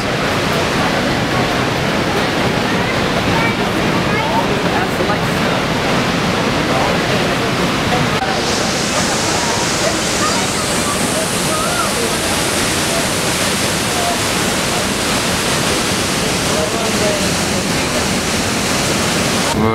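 Thunderous, steady roar of Niagara Falls heard from below at the base, a dense broadband wash of crashing water that stays loud and unbroken throughout, with faint voices lost beneath it.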